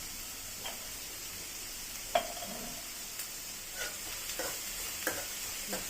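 Rava upma frying in a pan and being stirred, with a steady soft sizzle and sparse spoon scrapes against the pan, one sharper clink near the start; no voices.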